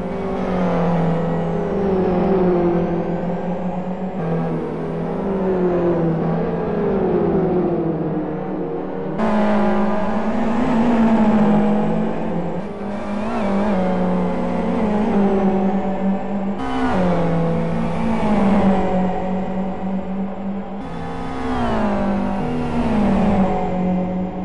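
GT1 race cars at speed on a track, loud engines revving up and shifting through gears in repeated rising sweeps, with cars passing close by one after another.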